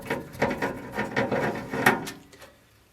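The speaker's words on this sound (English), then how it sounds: "Magnetron, we just take the 4 screws out." A screwdriver backs out the four screws holding the magnetron in a Sharp microwave oven being scrapped. It makes a run of quick, evenly spaced ratcheting clicks and scrapes, close up and alone, then tapers off.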